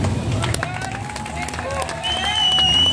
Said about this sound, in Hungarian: külön kérek egy tapsot és gratuláljak nektek